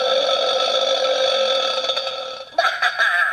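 A long, loud electronic belch from a Rabbids plunger blaster toy, drawn out and tonal, ending in a short burst of choppy sound.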